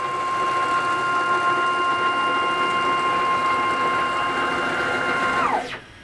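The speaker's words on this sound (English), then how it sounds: "I'm going to move the gantry to the front of the machine and compare the noise it now makes with previously." A CNC machine gantry travels on an SFU1605 ballscrew fitted with a replaced ball nut, a steady whining stepper-driven drone with a sustained tonal hum that winds down and stops near the end.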